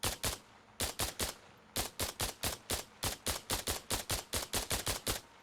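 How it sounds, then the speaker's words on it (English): SCAR rifle firing full auto in a video game test fire, loud close bursts of rapid shots in regular groups of three to four with short gaps between. "Let's do a little test fire to showcase the scar."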